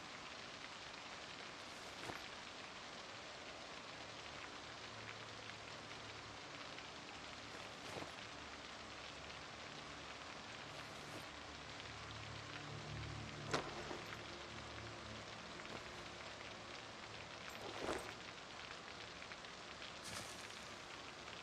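Rain falls steadily in a survival video game, a soft, even patter with occasional faint thumps and clicks, heard quietly with no voices over it.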